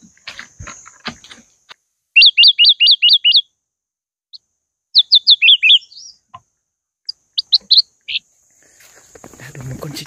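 Wild birds chirp in short rapid bursts of bright repeated notes near a trap in sunny woodland, with quiet gaps, rustling and faint handling noise between calls.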